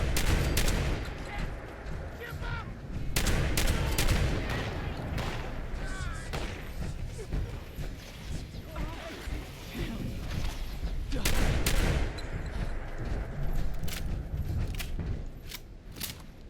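Rapid bursts of gunfire from a wrongly equipped gun in the Fallout 76 video game run almost continuously and loud, with a dense crackle of shots throughout.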